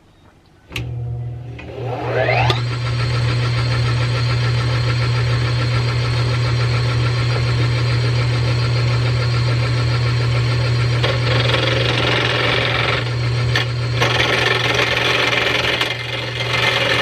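A 1950s Sears wood lathe spins up after a click, then runs with a steady loud motor hum while a tool scrapes against the turning wood, a continuous rough grinding texture with occasional sharper catches.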